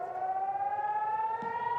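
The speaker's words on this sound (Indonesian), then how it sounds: "Peringatan sirine berbunyi saat sejumlah rudal Iran melintas dan menghantam area permukiman di" An air raid warning siren in Nahariya, Israel, wails steadily with a slowly rising tone, sustained and moderately distant, with no voices.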